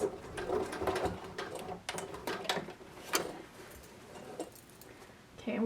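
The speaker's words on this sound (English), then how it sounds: "back stitch a few stitches, and then forward, and then back maybe a couple more times" A sewing machine back stitches along the hem of a quilted vest, running in short bursts of rapid stitching that stop and start as it runs forward and back, close and moderately loud.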